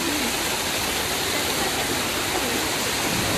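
Water rushes steadily down the stone steps of the Ekvira Devi hill temple, a continuous, dense hiss with no breaks or voices.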